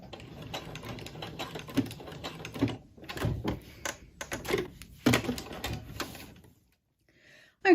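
A sewing machine runs a back stitch on a quilt in short, uneven bursts of rapid clatter with brief pauses, close by, then goes quiet near the end.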